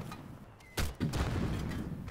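An IED detonates in the ArmA military game: a sudden loud blast with a rumbling low tail, then a second heavy boom shortly after, both trailing into a sustained roar of debris and ambient noise.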